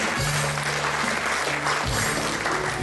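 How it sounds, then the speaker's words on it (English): A church congregation clapping together in praise, a loud, sustained wall of many hands with a low steady hum running underneath. "Let's give a clap for the Lord"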